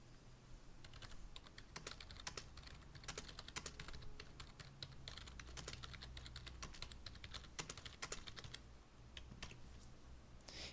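Steady, rapid typing on a computer keyboard while entering a question title for a Google Docs form, with dense clicks running throughout at a close, even level and no talking.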